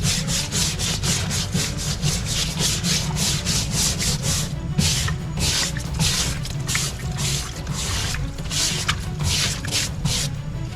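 A fingernail brush scrubs engraved bear leather meant for a stool or chair, with steady, rhythmic, close-up bristle strokes running continuously throughout.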